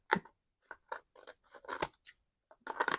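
Scissors snip through paper while a craft kit piece is trimmed down to size, a quick series of close, crisp cuts with short pauses between them.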